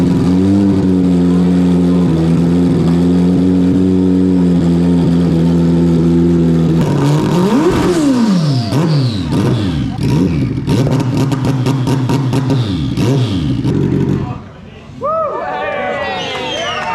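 Motorcycle engine idling with a steady drone, then revved repeatedly in rising and falling bursts, loud and close, before cutting out near the end; a voice is heard over it.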